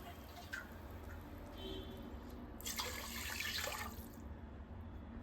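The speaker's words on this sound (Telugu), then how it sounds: "ఆ గ్లాస్తో త్రీ గ్లాస్ ఆఫ్ వాటర్ అయితే యాడ్ చేసుకోవాలి" Water pours into a pan in a short splashing burst, lasting about a second, over quiet background hum.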